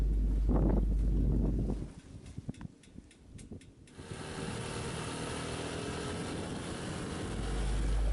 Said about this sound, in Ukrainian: тиша і вітер. До речі, доволі прохолодний.